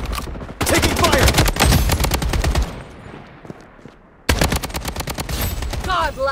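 Rapid machine-gun fire in the Blood Strike multiplayer shooter, with two loud sustained bursts separated by a quieter lull and a short voice line at the end.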